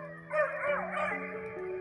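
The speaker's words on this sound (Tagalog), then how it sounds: "May aso." A dog barks and yips a few times near a condominium building in Quezon City, short tonal calls close by and fairly loud, with no talk over them.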